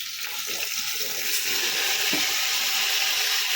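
One kilogram of soaked rice frying in a pan for pulao, a steady bright sizzle with occasional stirring scrapes throughout, loud and close.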